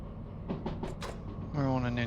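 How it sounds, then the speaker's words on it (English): In the Derail Valley train game, soft clunks and rolling noise give way to a sustained, ringing metallic wheel squeal that rises near the end as a train slows on an incline. "Little bit of wheel squeal."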